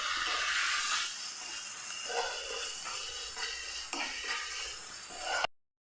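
Turmeric and garam masala are stirred into a mixture in a pan, giving soft repeated scraping strokes over a constant sizzling hiss before the sound cuts off abruptly.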